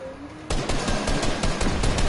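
Rapid gunfire in a multiplayer shooter game: a burst of repeated shots starts abruptly and keeps going, loud and close, with no talking over it.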